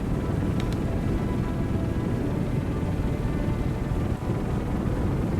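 Jet aircraft launching from a carrier deck in the naval strategy game Aircraft Survival, a steady loud roaring rumble of engine and wind noise that holds evenly throughout with no speech.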